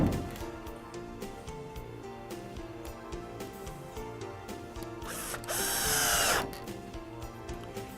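A power drill whirs in short bursts as it drives deck screws into the frame of a Sunshine Gardenhouse 6 x 8 greenhouse, with a longer, louder run in the middle and clicks and handling noises between bursts.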